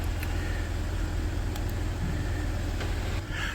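A VW Polo 1.2 TDI Bluemotion diesel runs on a dyno, its engine droning loud and steady from close by under a constant noisy hum.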